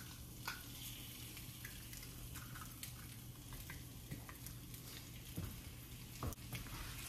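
An egg for a rice paper omelette cooking in an oiled pan, a soft continuous sizzle with occasional scrapes and taps from a utensil, fairly quiet and close, no voices.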